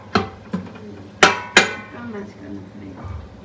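A spoon knocks and scrapes against a metal cooking pot as food seasoned with salt and turmeric is stirred over medium heat, giving a few sharp clanks followed by softer scraping, close by and with no talk.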